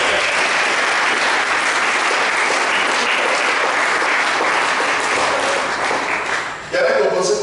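A church congregation at a Pentecost seminar applauds loudly and steadily for several seconds, the dense clapping filling the room with scattered voices, before it briefly dips and swells again near the end.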